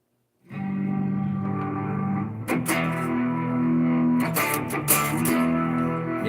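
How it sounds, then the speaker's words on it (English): An electric guitar run through an overdrive pedal rings out in sustained distorted chords after a brief silence, thick and continuous with a sharper strummed change partway through, no voices present. "Now I'm going to add a little bit of an overdrive here."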